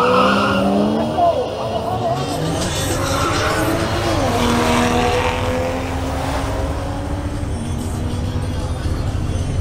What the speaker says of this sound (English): Next, Maria Clara Polo makes another run in her BMW M340i xDrive.